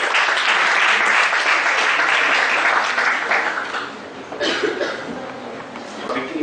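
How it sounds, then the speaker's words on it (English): An audience at an ICAI Bangalore professional session applauds to welcome a chartered accountant speaker, loud and full at first, then thinning into scattered claps and a few murmurs. "Please round of applause."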